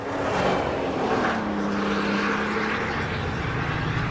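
A 2025 Toyota Tundra TRD Pro pickup truck on the move, its engine note rising and falling under a steady rush of road and wind noise, heard from close by.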